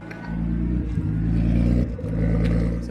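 A car engine idling at about 1200 RPM under a Haltech Elite ECU ghost cam setting, with a loud, close, lumpy rumble that dips and surges twice in a rough choppy rhythm.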